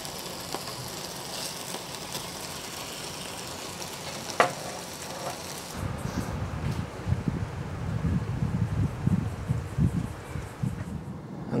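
Plant-based food frying in a pan makes a soft, steady sizzle. Wind noise and rustling sit over it at first, then a fuller, louder crackle comes in for the second half.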